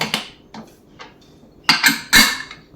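Metal clatter as a pressure cooker lid is handled and shut after ginger is added to a drumstick (muringa) soup: a few light clinks, then two louder, close metallic knocks near the end, no talk.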